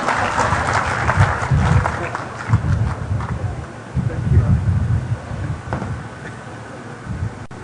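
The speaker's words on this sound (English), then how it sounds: "You can clap for me." Seminar audience clapping after a presenter's talk, a broad steady wash of applause filling most of the clip, fairly loud and continuous with a slight tail-off toward the end.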